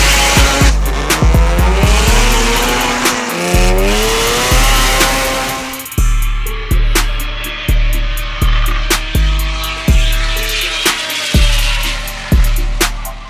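A turbocharged muscle car at a racing event launching hard, its loud engine revving and climbing through the gears, followed by a long run of rhythmic, pulsing revs close by, with no talking.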